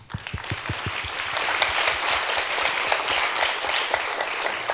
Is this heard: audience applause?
yes